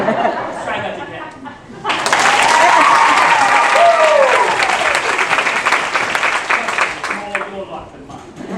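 A theatre audience at a performance of The Mystery of Edwin Drood bursts into loud, full applause after a short quiet stretch, with a vocal cheer or whoop rising over the clapping before it thins out.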